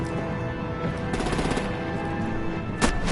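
Gunfire aimed at disabling vehicles in a Batman video game clatters in quick repeated bursts over a loud, busy background, ending with one sharper crack near the finish.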